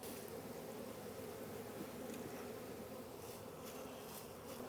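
Honey bees swarm inside an open hive box while a colony is being split, giving a soft, continuous, even buzz with no break.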